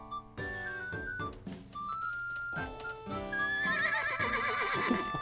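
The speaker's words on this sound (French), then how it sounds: "Un cheval en détresse!" A horse in the video game Miitopia neighs and whinnies, a loud, close, rising and falling cry with musical game tones underneath, no speech.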